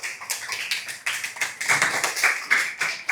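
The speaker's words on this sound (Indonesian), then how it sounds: "Tepuk tangan" A classroom of students claps their hands together in a teacher-led round of applause, producing a dense, uneven patter of sharp claps that keeps going for a few seconds with no talking.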